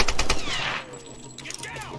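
Gunfire in a Tomb Raider game, a rapid burst of close automatic shots in the first half second, then fainter scattered shots beneath voices and tonal game sounds.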